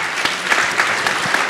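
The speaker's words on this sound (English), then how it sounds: "Big round of applause." Brief burst of audience applause at a closing-remarks session, continuous dense clapping from a crowd filling the whole moment.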